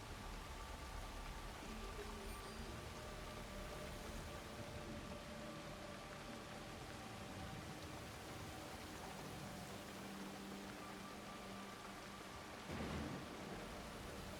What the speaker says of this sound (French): J'aime bien quand il pleut.